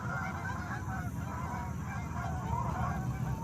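A flock of ducks flying overhead in a park, honking continuously in a dense, overlapping chorus at moderate distance, with no talking.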